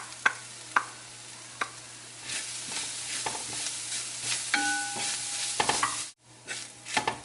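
Half a cup of grated coconut sizzles in a hot pan for a lamb brain roast, a soft frying hiss punctuated by sharp spoon scrapes and taps against the pan, close and fairly quiet.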